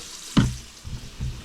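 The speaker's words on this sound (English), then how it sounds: "Rinse the shoots with cold water" Cold tap water splashes over cattail shoots being rinsed, a soft burst of splashing followed by two quieter gushes, close by.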